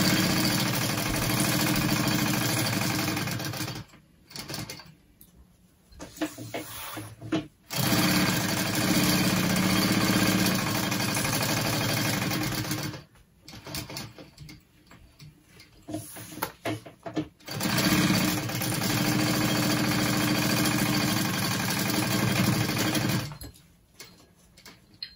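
A sewing machine bastes a panel for a convertible backpack. It runs in several loud, fast bursts separated by quiet pauses with small handling sounds between the runs.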